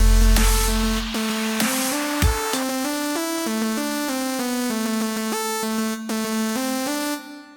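A plastic-toned sawtooth FM synth lead from Reason 12's Europa plays a short melodic phrase of sustained, buzzy bright notes, loud and alone.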